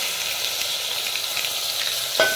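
Cumin and mustard seeds sizzling in hot oil, a dense even hiss and crackle held close throughout, ending with a single sharp clink of a utensil, and no talking.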